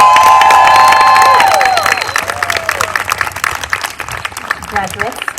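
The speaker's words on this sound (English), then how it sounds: "Everyone, please give a round of applause to our graduating class of 2021." A graduation ceremony crowd for the class of 2021 bursts into loud, sustained applause and cheering, with a bright whistle or shout early on, the clapping thinning into scattered claps and voices as it fades.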